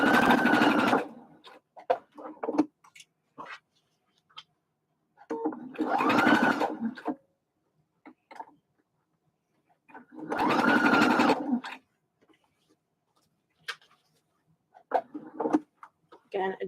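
A sewing machine stitches fabric for a bucket hat in three short whirring bursts, close and clear, with quieter handling noises and pauses between runs.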